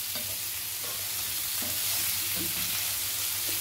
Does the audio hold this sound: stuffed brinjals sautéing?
yes